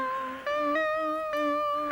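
Basic Erica Synth VCO2 modular synthesizer voice through an MS-20-style MA35 filter, playing a steady buzzy tone that steps to a new pitch three times, close and alone with no talking.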